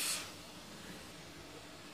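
Steam hisses from a puttu steamer as Kerala-style puttu cooks, a bright spray-like burst at the start settling into a soft, steady hiss with no talking.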